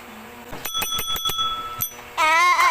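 A bright electronic chime rings in a quick series of sharp, evenly spaced tones, followed by a wavering warbling tone; no talking.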